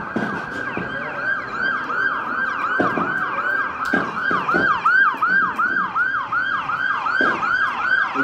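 An ambulance siren wails in steady repeated sweeps as it approaches during an emergency-services response, loud and continuous over low road and vehicle rumble.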